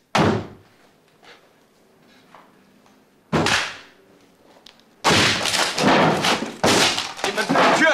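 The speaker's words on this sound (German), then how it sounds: "Jemand tritt die Tür ein." A door is kicked in, heavy thuds and slams in bursts, the first two spaced apart and then a rapid, loud cluster of crashing impacts near the end.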